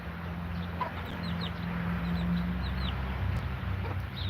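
A young chicken of still-unknown sex clucks in short repeated calls over a steady low hum, its soft chirps rising above the background at moderate distance.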